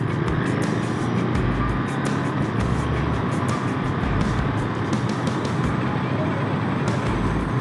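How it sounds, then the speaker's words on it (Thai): A Ducati Monster 937 motorcycle rides on a road, its engine noise blending with strong wind rush and traffic for a steady, loud, continuous roar. "แหมสับเกียร์มันติ่งๆ"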